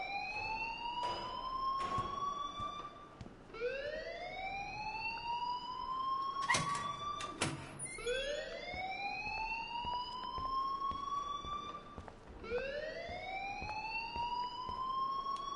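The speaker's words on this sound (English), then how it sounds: "please turn off that alarm since that's your job." Fire alarm in the video game Life is Strange wails with repeated rising electronic sweeps in a steady cycle, about every four seconds, with a few sharp clatters mixed in.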